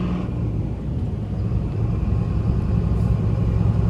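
A 1999 Dodge Ram 3500 diesel truck rumbles steadily while being driven in second gear, with a low, continuous engine drone heard from inside the cab and no talking.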